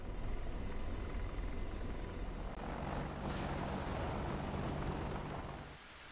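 Hellfire missile strike from an AH-64D Apache in the DCS combat flight game, a broad roaring rumble with a blast surge midway that holds loud for several seconds before tailing off near the end.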